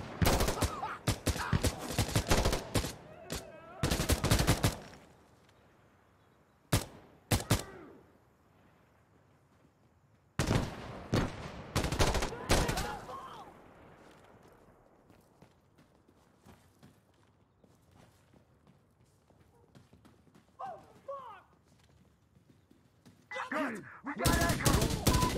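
Gunfire in the video game Insurgency: Sandstorm, with bursts of rapid automatic shots and single cracks clustered at the start, middle and end, separated by quieter stretches of ambient game sound and brief voices.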